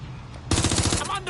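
Automatic gunfire from a weapon in the video game Watch Dogs Legion erupts after a quiet half-second and continues as a dense, rapid, loud burst of closely spaced shots to the end.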